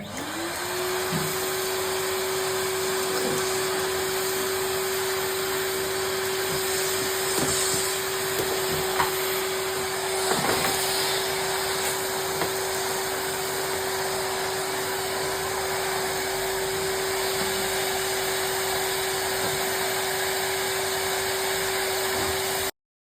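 A vacuum cleaner runs steadily and close by while a bedroom is cleaned, a constant loud motor drone that holds one tone for the whole stretch, with small bumps and knocks as the nozzle moves about.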